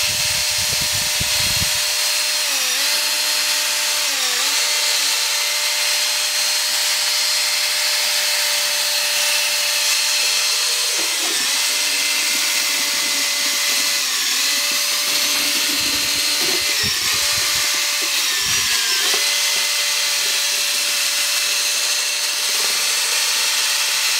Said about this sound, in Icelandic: En ég þarf að versla með betri borvél í þetta.